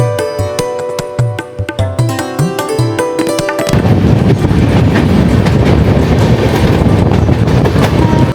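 A moving train's rail cars give a rhythmic clickety-clack over the tracks, then the sound becomes a loud, dense, continuous rumble as the train runs on.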